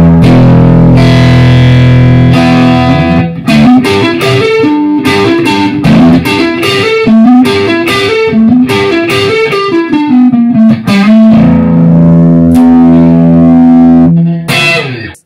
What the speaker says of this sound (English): I'm going to increase the gain a little bit and you'll hear that there's going to be more distortion.